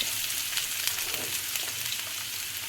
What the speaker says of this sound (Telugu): పచ్చి బఠానీ చిల్లీ అన్నీ వేసి లైట్గా సాటే చేసుకోవాలి